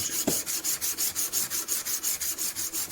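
A secateurs blade is worked back and forth on a 300 grit sharpening stone, giving quick, evenly spaced rasping strokes, about five per second, close and distinct with no talk.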